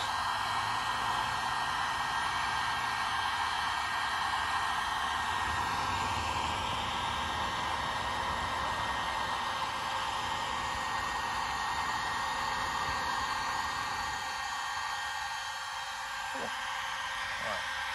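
A heat gun strips paint from wooden window profiles, blowing a constant loud, airy roar like a hair dryer that holds steady throughout at close range.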